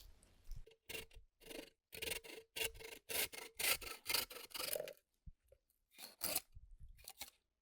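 A hand saw cuts at an angle through a bamboo stalk in a bamboo grove, with close, rhythmic rasping strokes in repeated bursts and short pauses near the end.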